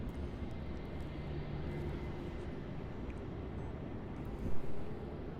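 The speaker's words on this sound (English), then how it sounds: "here we now have that Etihad 777-300ER beginning to taxi up north towards runway 34" An Etihad Boeing 777-300ER jet taxiing at Melbourne Airport, heard as a steady, broad, distant engine rumble and whine with wind, and a brief louder swell near the end.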